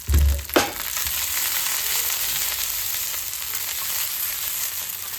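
Cut idli pieces drop into a hot pan with a thud and a brief burst of noise, then fry with a loud, even sizzle that holds steady for several seconds. No voices.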